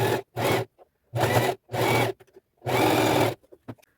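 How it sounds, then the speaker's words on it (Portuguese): Short, loud bursts of a sewing machine zigzag-stitching two layers of a fabric knee pad together, five runs separated by brief pauses and small handling clicks. "Costurar uma de frente assim, com uma em cima da outra, ó. Com a zigue-zague"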